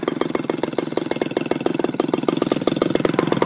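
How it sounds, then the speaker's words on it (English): An ASP Magnum SC 180 two-stroke engine converted to run on gas idles at a very low tick over, firing in a fast, even pulse that stays close and loud, with no talking. "It's a really low tick over."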